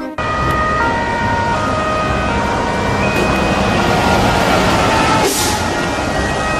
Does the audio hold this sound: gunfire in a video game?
no